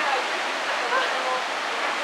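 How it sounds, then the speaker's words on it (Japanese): Nachi Falls, a tall waterfall in Japan beyond a shrine, pours in a steady broadband roar that holds even throughout, with a few faint voices in the background. "おそらく日本一と言われている那智の滝ですね。"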